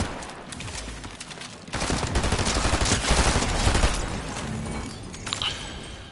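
Loud, dense video-game gunfire rattles in rapid automatic bursts, thickening into a heavier barrage midway and then tapering into scattered shots near the end.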